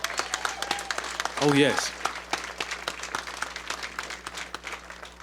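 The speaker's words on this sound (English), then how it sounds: "Another round of applause." An audience at a closing-remarks ceremony at Eglin Air Force Base gives a round of applause. The clapping is moderately loud and sustained, with a brief spoken voice and murmurs woven through it.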